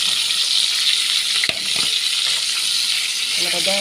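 Meat sears in a hot pan with a constant, loud, bright sizzle. A brief clink is heard partway through as it is stirred.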